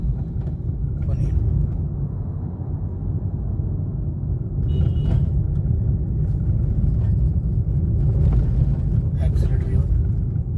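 Car engine accelerating during a driving lesson, a loud continuous low engine rumble from inside the vehicle with an instructor's voice talking over it in short bursts.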